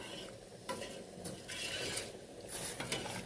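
Soto tangkar meat and egg stirred in a pot, a quiet continuous scraping swirl with faint sizzling, repeated strokes close up and alone.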